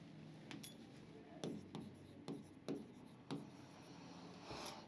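Chalk or marker writing a word on a board during a calculus lecture, a series of short scratchy strokes in an uneven rhythm, close and fairly quiet.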